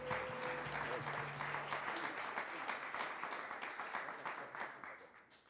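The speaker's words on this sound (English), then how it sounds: "let's give the kids a round of applause just so that they don't feel nervous" An audience at a Northwest Native art symposium gives a sustained round of applause for children, steady dense clapping from many hands at moderate distance, tapering slightly toward the end.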